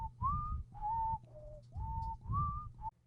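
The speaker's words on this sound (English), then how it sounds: "let me whistle you a little ditty" A person whistles a short melodic tune of about six sustained, gliding notes, clear and close, over a low steady background hum.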